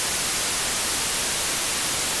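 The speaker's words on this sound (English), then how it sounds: "White noise sounds like this." Steady white noise, an even full-spectrum hiss like radio static, holds at constant loudness throughout with no other sounds.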